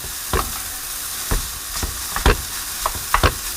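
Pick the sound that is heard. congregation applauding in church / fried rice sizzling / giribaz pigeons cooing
fried rice sizzling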